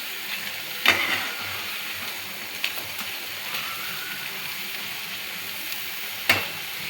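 Gobi manchurian cauliflower pieces deep-frying in hot oil, giving a steady broadband sizzle and bubbling throughout, with a few sharp clicks and taps of a utensil against the pan.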